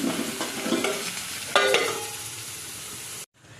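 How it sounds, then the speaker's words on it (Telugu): A spoon scrapes and stirs chopped ivy gourd curry in a pan, several uneven scrapes and knocks over a soft sizzle, close up, ending abruptly. "మధ్యలో కలుపుతూ ఉండాలి."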